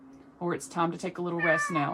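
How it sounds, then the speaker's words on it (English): A house cat meows several times in quick succession, close to the microphone, overlapping a person who keeps talking calmly indoors. "Sorry, that's my cat."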